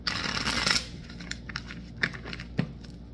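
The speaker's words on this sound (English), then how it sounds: "So let me get 5 cards from here." Tarot cards shuffled in a brief rapid flurry, then a few soft, separate snaps and slides as single cards are drawn, close and fairly quiet.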